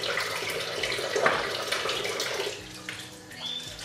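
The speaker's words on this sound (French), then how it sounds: "on va mettre de l'eau chaude pour enlever ce qu'il y a dessus" Hot water gushing steadily from a tap as a surface is rinsed clean, a continuous broadband splash holding throughout with slight shifts in flow.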